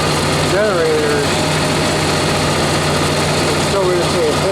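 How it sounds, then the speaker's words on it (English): An RV generator engine runs steadily and loudly at close range, a continuous droning hum with a low, even tone, while someone talks over it. "the generator engine runs, which turns the stator"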